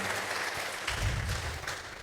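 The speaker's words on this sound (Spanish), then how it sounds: "démosle un aplauso a nuestro hermano" A church congregation claps steadily at moderate volume, welcoming a brother to the front, with a low murmur and rustle underneath.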